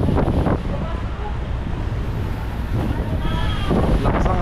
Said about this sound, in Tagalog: Lakas ang hangin, mga kabisi ko.